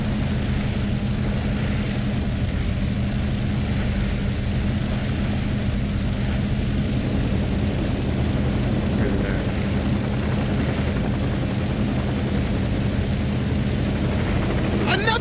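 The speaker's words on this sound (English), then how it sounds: "Another chopper is coming!" In the video game Saints Row 2, a helicopter drones with a steady, loud rotor and engine roar throughout, mixed with game noise and faint speech, under a constant dense wash of sound.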